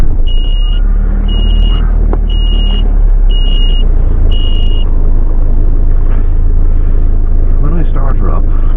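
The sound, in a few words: low-voltage alarm beeping as van starts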